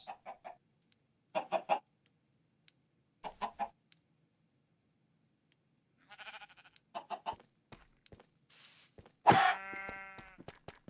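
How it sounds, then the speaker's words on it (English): Chickens in the Minecraft modpack ATM10 give short clucks in scattered bursts over several seconds, clear and close, and a louder squawk or bleat near the end. "There are the chickens."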